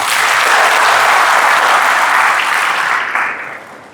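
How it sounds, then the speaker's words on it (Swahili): Loud, full applause from a congregation at a Good Shepherd Sunday Mass in CTK Cathedral, Nakuru, dense clapping that holds steady before tapering off near the end. "Tuwapigie makofi watu."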